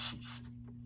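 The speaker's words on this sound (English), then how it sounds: "activate the smoke detector by just spraying some smokes" A brief hissing aerosol smoke spray burst aimed at a smoke detector, close and soft, fading out within half a second over a faint steady hum.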